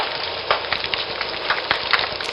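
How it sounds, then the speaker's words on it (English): An underwater recording of snapping shrimp: a dense, continuous crackle of countless sharp snaps, loud and steady like frying fat, with no other sounds. "this is a sound of snapping shrimp"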